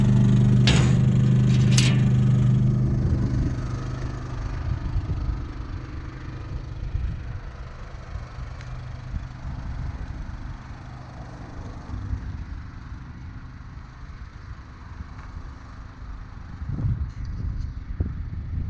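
A Champion portable generator running inside a closed custom RV generator box, a steady low muffled engine hum heard from some distance, louder at the start and then settling to an even drone.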